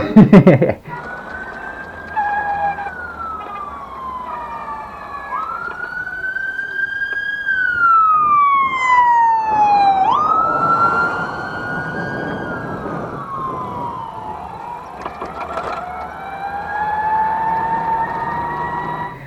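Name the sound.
ambulance siren passing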